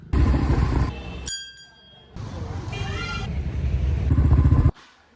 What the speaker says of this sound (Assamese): এইটো বাইক লৈ জল্দি গৈ থাকোঁ